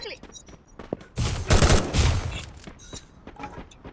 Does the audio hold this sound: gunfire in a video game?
yes